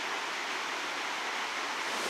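A raucous waterfall in Oman gushes down a rock face, a dense unbroken roar of rushing water that stays loud and even throughout.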